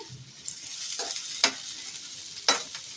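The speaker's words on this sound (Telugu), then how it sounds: "కరివేపాకు, క్యాప్సికమ్, మొత్తం అన్ని 1 by 1 వేసేసుకోవాలండి." Curry leaves and capsicum stir-frying with onions in a pan, quick bursts of sizzle and sharp spatula scrapes against the metal over a low crackle.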